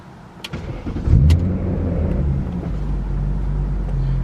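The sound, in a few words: 2000 BMW E39 M5 engine starting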